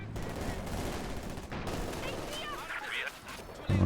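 Gunfire in a multiplayer World War II strategy match involving Soviet and Allied forces: sustained crackling volleys and scattered shots, fairly distant, mixed with other battle noise and someone talking over it.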